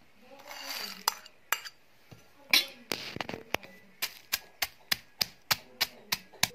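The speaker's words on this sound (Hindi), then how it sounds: "अब हम अखरोट कूटेंगे" Walnuts are pounded in a mortar for a village-style chutney, a steady run of sharp, evenly spaced strikes following a few looser knocks, close and fairly quiet.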